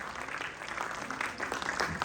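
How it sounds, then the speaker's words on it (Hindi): Audience applause at a yoga conference, a dense, steady patter of clapping across the whole stretch with no break. "जोरदार तालियां"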